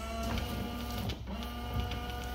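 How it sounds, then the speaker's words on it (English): A Chevrolet truck's windshield washer pump runs with a steady mechanical whir and hum, close and continuous, with a brief dip partway through before it carries on. "Washer's working."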